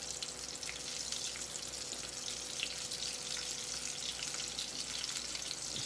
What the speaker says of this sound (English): In the grease he goes.